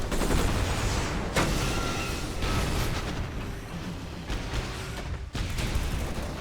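Combat in Civilization: Beyond Earth as an artillery unit comes under fire from a city, a missile rover and armor. Dense, loud bursts of gunfire and explosions roll continuously, with a few sharp blasts standing out and no talk.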